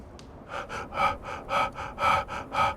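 Heavy, rhythmic breathing close to the mic, about eight loud breaths in steady succession with no talking.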